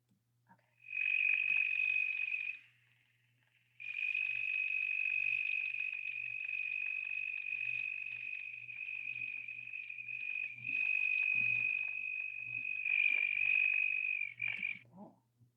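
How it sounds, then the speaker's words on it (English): A frog or toad of the coastal plain gives a sustained, high-pitched trilling call at night, running steadily for several seconds with a short break, fairly clear against a faint low hum and without talk. "So it's a trill, but sometimes it sounds screechy."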